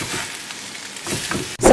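Black bean, sweet potato and quinoa burgers with onions crisping in a frying pan, giving a brief, close, steady sizzle with a louder burst of frying at the end.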